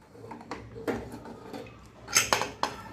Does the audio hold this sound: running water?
no